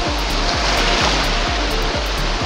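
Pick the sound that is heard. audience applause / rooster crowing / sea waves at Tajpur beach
sea waves at Tajpur beach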